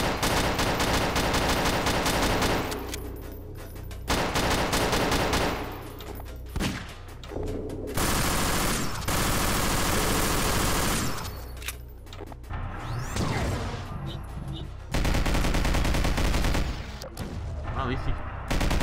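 Garry's Mod horror maze game gunfire in rapid bursts, loud rattling shots and booms separated by brief pauses, dense and chaotic.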